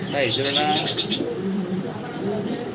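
Pigeons give soft, throaty coos at close range while someone talks over them, and a few brief chirps sound through the speech.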